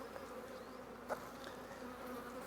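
Honeybees from a small, weak colony of about three frames hum in an opened hive, a faint, steady buzz continuing without talk.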